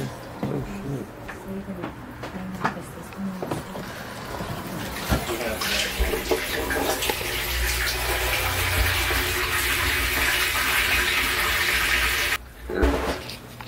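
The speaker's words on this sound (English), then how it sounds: "Let me go turn on the water for you." Water running from a tap into the tank of an aquaponics grow system holding about 27 gallons, a steady close gushing splash that builds and then stops abruptly near the end.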